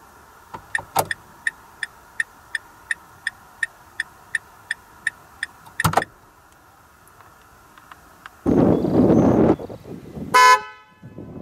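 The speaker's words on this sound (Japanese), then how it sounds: "クラクションは、少し前の高級車のような音で、質感が高いです" Regular ticking clicks, then a single sharp tap, followed by a loud Mazda Premacy minivan horn blast and a second brief honk near the end.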